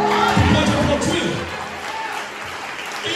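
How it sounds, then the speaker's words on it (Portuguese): A church congregation at an anniversary celebration cheers and applauds, with a noisy crowd roar, shouts and excited voices that stay loud and then ease slightly toward the end. "Pode aplaudir."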